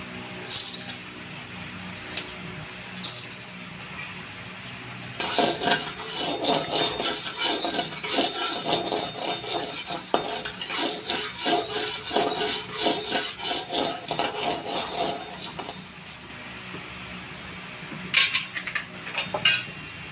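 Mustard seeds splutter and crackle in hot oil while pirandai pickle is being cooked, bursting in dense rapid pops that build into a steady sizzling patter, with quieter scraping moments before and after.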